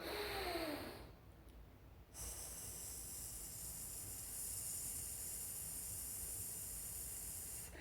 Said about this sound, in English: very slowly as possible, do this. Deep breath.